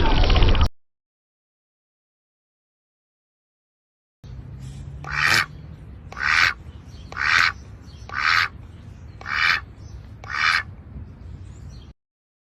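Cartoon ducks quack in a rhythmic run of about seven loud, evenly spaced squawking calls over a low hum, following a short sound and a stretch of silence.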